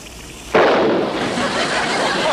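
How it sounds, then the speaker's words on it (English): A sudden loud explosion bursts in after a quiet moment, followed by a long, rumbling roar of noise that keeps going. "what was that explosion?"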